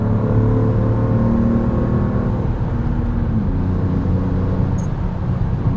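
A 2026 BMW M2 with a manual gearbox drops to fifth gear while driving, its engine note holding a steady, loud drone with a slight pitch shift amid road and tire noise.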